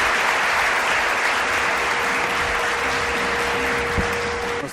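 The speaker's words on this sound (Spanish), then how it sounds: "Un aplauso para ti, pido." Loud, sustained applause from a large crowd, a thick continuous roar of clapping hands at even strength throughout, tapering only at the very end.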